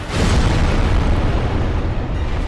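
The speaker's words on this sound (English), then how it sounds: "It just makes big explosions, and the explosions kill you, and it hits like a truck." A boss in the video game Dark Souls sets off a big explosion, a loud, deep rumbling blast that erupts at once and roars on with a long, gradually thinning tail.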